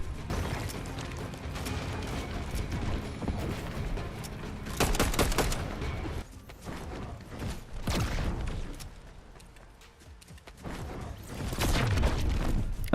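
Rapid gunfire in a Fortnite solo cash cup match, a busy stream of shots and bursts with loud clusters and brief lulls, carrying on steadily with no talking throughout.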